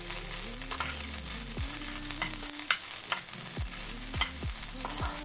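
Green chillies fry and sizzle steadily in a pan for thecha, a garlicky chilli relish, with repeated clanks and scrapes of stirring cutting through the constant close hiss.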